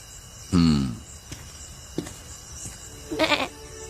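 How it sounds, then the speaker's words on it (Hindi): In a Hindi-dubbed anime film, a markhor goat gives a loud wavering bleat up close, followed by softer clicks and a second short, high bleat near the end, set against a faint insect-like background. "ये बकरी नहीं है, मारखोर है।"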